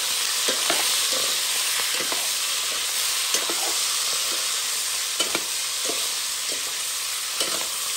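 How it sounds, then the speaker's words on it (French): Loud, continuous sizzle of smoked sausages frying in a pan, with intermittent clicks and scrapes from stirring or turning. "Les saucisses fumées sont en train de frites."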